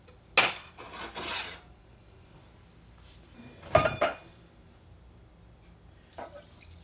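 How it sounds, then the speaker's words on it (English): Brine poured carefully into a jar of eggs and onions for Amish-style Pennsylvania Dutch mustard eggs: a few short splashing bursts with faint clinks against the container, separated by quiet pauses. "I'm going to carefully add our brine in."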